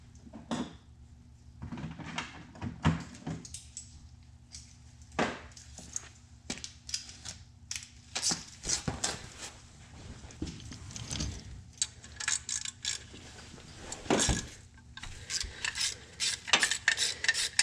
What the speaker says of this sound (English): I'm just gonna take the 8mm bolt off there.